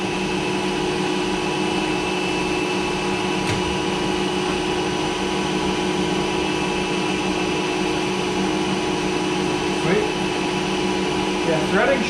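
A large 1960s lathe runs steadily through a threading pass, giving a continuous loud motor and gearing drone with a constant hum that carries through the whole stretch without break.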